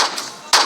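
Gunfire from a first-person shooter video game: two loud, close bursts of shots separated by a short gap, with no voices.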